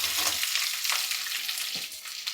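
Onions sizzle and fry in a hot pan for a curry, a bright steady crackle with a few soft stirring scrapes.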